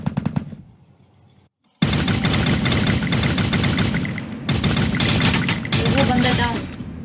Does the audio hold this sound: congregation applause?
no